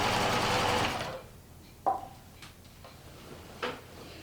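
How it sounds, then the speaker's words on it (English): A sewing machine runs fast stitching the last row of a quillo, a loud steady whir for about a second that then stops, followed by a few faint clicks and taps. "Because this is the last row on this, I can sew really fast."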